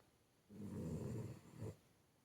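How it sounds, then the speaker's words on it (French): A dog snores once nearby, a single low rumbling breath lasting about a second with a brief snort at its end, quiet and alone in a still room. "Un gras double qui ronfle à côté de toi."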